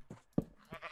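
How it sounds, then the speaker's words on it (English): Sheep bleating in the video game Minecraft, two or three short bleats spaced across a second, the middle one loudest and closest, with no talk over them. "Hey, sheep."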